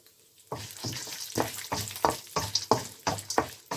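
Roasted peanuts and lentils frying in a pan for tomato rice, crackling sizzles arriving in regular bursts as the mixture is stirred, close and moderately loud with no talking.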